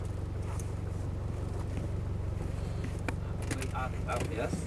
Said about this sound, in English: let's take this off-road prepared Land Rover Discovery 200 TDI for a spin